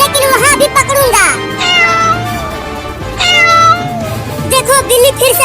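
Cartoon cat meowing repeatedly in a chase after a pigeon, loud drawn-out meows rising and falling over busy animated music and effects, with a few brief child-like voice sounds mixed in.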